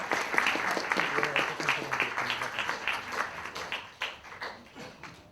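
An audience claps at a Finnish film award ceremony. Moderate applause builds in uneven waves and fades toward the end, and a voice speaks over the first part of it.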